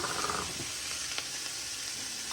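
Green onion sautéing in a pan with sesame ginger sauce ingredients, a steady faint sizzle running throughout with a few soft stir clicks, no talking.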